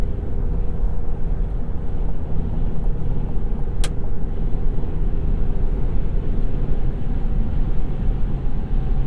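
A 2023 GMC Canyon truck with an 8-speed transmission accelerating up onto a highway, a steady loud engine and road drone heard from inside the cabin, with one brief click midway.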